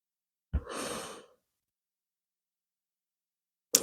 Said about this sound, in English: Just taking some nice deep breaths here.